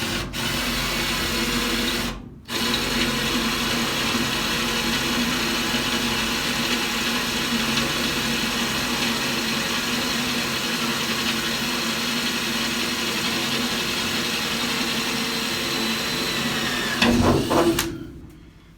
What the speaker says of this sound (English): I'm going to have to cut it out with a jigsaw